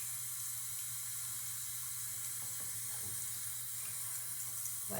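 A steady hissing spray of water on hair running continuously at close range, with a low hum beneath it.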